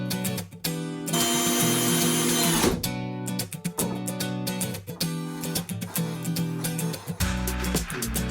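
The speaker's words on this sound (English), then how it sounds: "now I have to screw in some reinforcements or back plates in between the studs" Close-up power drill whirs in several bursts, a long steady run followed by shorter revving pulses as screws drive reinforcement back plates between wall studs in a bathroom refurbishment.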